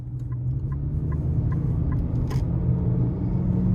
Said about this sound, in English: let's go ahead and take this 2026 Nissan Kicks S out on the road for a test drive